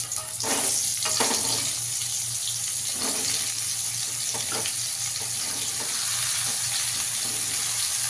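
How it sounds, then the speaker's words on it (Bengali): Sliced ridge gourd frying in hot oil with nigella seeds in a pan, a steady, close sizzling hiss with small crackles running throughout. "ঝিঙেগুলো দিয়ে একটু ভেজে নেব।"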